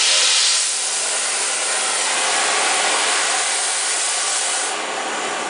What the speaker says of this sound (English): we're going to use an oxyacetylene torch